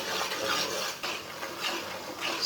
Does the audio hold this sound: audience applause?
no